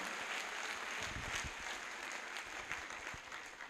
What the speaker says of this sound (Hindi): उनके लिए चाहता हूं जोरदार तालियां हो जाए